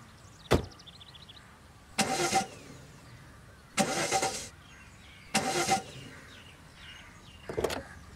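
A car engine cranks repeatedly without catching: four separate starter whirs of about half a second each, with short silent gaps between them, close and fairly loud, preceded by a single sharp click.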